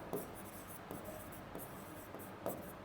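Chalk or marker scratches faintly across a board during a maths class on quadratic equations, with soft irregular strokes and light taps over a steady low room hiss.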